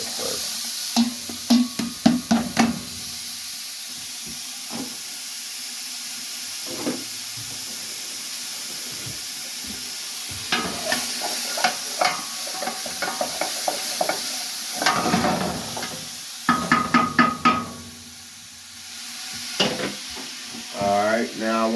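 Shallots, green onions and red onions fry in a pot for chili, giving a steady broadband sizzle broken by bursts of stirring scrapes and clatter, close and loud, with no voices.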